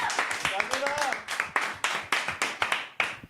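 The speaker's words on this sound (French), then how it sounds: "Bravo, on peut l'applaudir." A small audience claps after a sung performance of a French variety show, with sparse, distinct hand claps that thin into a slow rhythmic beat, fairly quiet, and voices talking over them.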